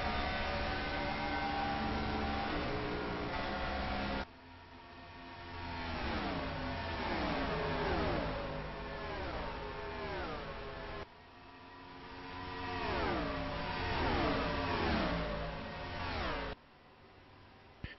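Race cars circling Atlanta Motor Speedway in a stock car race near its final laps, engines droning loudly and continuously with repeated rising and falling pitch sweeps as cars pass, broadcast-style audio with abrupt level changes.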